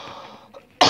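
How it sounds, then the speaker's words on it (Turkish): A single sharp, loud cough bursts out near the end, after a stretch of low, murmuring background with a faint throat sound, from a sick man in a quiet room. "Onun için pek öksürük sesimi duyabilirsiniz."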